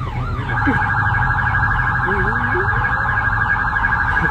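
A loud electronic siren blares nearby, a steady high tone overlaid with rapid warbling sweeps, sounding continuous throughout.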